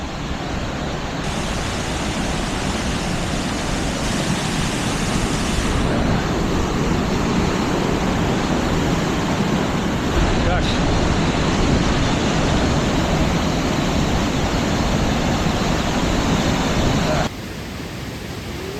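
A large waterfall in the Black Forest, a dense, continuous roaring rush of falling water, loud and close, holding steady for the whole stretch before easing slightly near the end.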